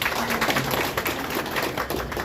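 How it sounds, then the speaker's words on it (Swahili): Audience at a college launch event clapping together, a dense, continuous patter of hands with uneven bursts, loud and close, filling the whole moment without any talk over it. "tupigie makofi"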